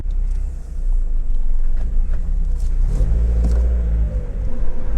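A Mazda Miata drives along at night with a steady low engine rumble and road noise, the engine note rising briefly midway as it accelerates.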